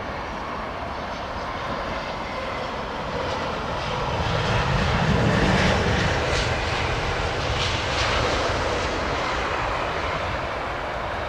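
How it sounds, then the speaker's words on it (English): An aircraft engine firing up at Heathrow Airport gives a loud, steady roar that swells midway and stays constant, with no voices. "I might see a little puff of smoke coming out of the back of the engine actually when I fire it up."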